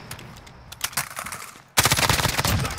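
Automatic gunfire in Call of Duty Warzone, scattered bursts early, then a loud sustained rapid volley of shots in the second half.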